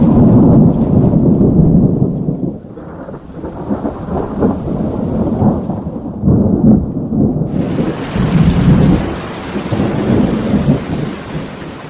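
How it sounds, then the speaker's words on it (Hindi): Heavy rain pours steadily while thunder rolls and rumbles low and loud, swelling and fading across the downpour. "मूसलाधार बारिश हो रही थी"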